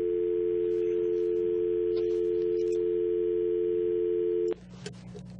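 A steady telephone dial tone hums alone on a call-in line for several seconds, then cuts off abruptly into faint background noise.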